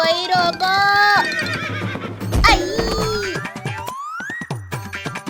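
A mare whinnies repeatedly in a loud, pitch-sliding neigh while hooves clip-clop as she runs, with frantic voices and cartoon-style effects mixed in around her calls.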